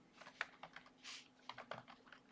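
Irregular bursts of keystrokes on a computer keyboard, close and fairly quiet, with clustered clicks and brief pauses between them and no voices.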